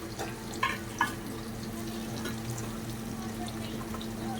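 Chili powders and turmeric sauté in a pan for a fiery village-style mutton dish, a soft steady sizzle running throughout after two brief clinks near the start.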